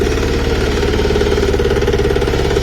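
A Kirloskar Mini T8 Deluxe power weeder engine running steadily, a loud close-up rapid chugging throb with constant knocking pulses and no pauses.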